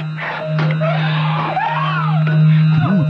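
A woman in a film screams shrilly under a steady low hum, with wavering cries and other voices mixed in throughout.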